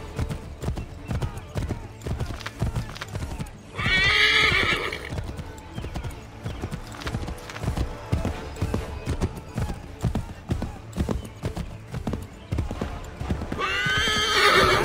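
In the Assassin's Creed 3 video game, a horse gallops with steady, close clip-clop hoofbeats through the whole stretch and neighs loudly twice, once near the start and again at the end.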